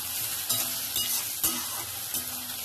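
Chopped onion sautéing with bay leaves and a whole spice in a pan for chicken kosha, a steady hiss of frying with a few light scraping stirs, close and soft.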